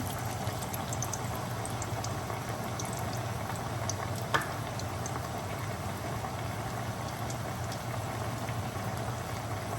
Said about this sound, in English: here it's sizzling right away